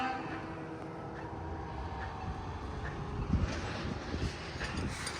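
Train heard from a roadside in the countryside, a low steady rumble of rolling cars with faint distant horn-like tones, moderately quiet and continuous throughout, no speech.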